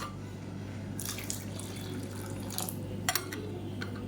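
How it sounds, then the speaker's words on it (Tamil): Hot water poured into a pan of thick egg curry masala, a few brief splashing pours and drips over a low, steady background hum. "இப்போ இது கெட்டியாக இருக்குது இன்னும் கொஞ்சம் தண்ணி சேர்த்துக்கலாம்"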